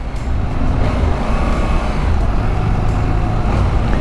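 Off-road vehicle engine in sport mode with aggressive throttle, a steady loud broadband rumble and road roar with no clear revving peaks, continuous for the whole stretch.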